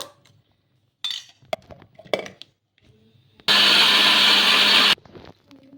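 A mixer grinder whirs loudly in one steady burst of about a second and a half while grinding batter, preceded by scattered clinks and knocks from handling the jar.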